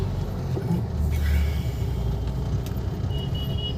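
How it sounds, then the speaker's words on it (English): Cars, buses and other traffic crawling through a congested Kolkata street in West Bengal make a steady, loud low rumble of engines with faint higher noise on top, no talking heard. "Again, we are stuck in traffic."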